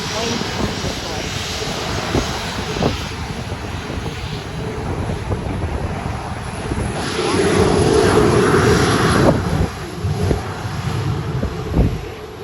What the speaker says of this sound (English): I think there's a few planes coming this way.